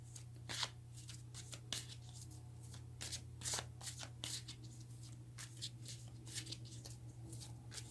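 Tarot cards being shuffled by hand: a steady run of crisp riffling and slapping card bursts over about eight seconds, close and fairly quiet, with a low steady hum underneath and no talking.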